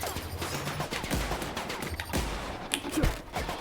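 Gunfire in The Outer Worlds during a fight with combat drone robots, heard as rapid, loud volleys of shots with thumping impacts, continuous over a few seconds.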